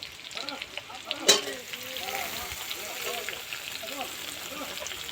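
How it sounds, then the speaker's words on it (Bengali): Cauliflower, carrot and pumpkin fry in a pan with a steady, close sizzle and a sharp clatter early on, while a person talks over the crackling throughout. "এবার আমি এর মধ্যে সব সবজিগুলো দিয়ে ভেজে নেব।"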